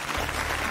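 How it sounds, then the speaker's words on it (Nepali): A television studio audience at The Voice Kids semi-finals applauds in a brief, steady burst of crowd clapping. "फेरि पनि एकचोटि जोरदार ताली आज यहाँ प्रस्तुति दिनुहुने हाम्रा आठैजना ट्यालेन्टहरूलाई"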